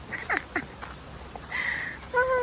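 Birds call in a forest with tall trees, giving a few short squawks and then longer tonal cries over a quiet background, some near and fairly loud.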